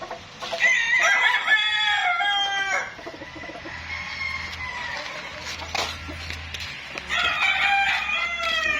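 Gamefowl roosters crow repeatedly at Mt Banahaw Game Farm, several drawn-out calls overlapping near and farther off, with a quieter stretch of clucking and farmyard noise between bursts.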